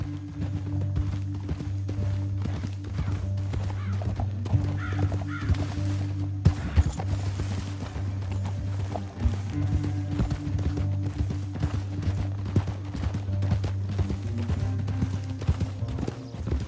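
Horse hooves clip-clop at a steady gallop across open ground in the Western video game Red Dead Redemption 2, with crows cawing nearby and a low, constant musical drone underneath.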